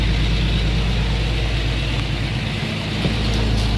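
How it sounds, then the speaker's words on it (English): DTA 360 diesel engine in a 1987 International bus running at high idle, a loud, steady low-pitched rumble with a constant mechanical drone, close by and uninterrupted, with no talking. "Give her a little high idle there"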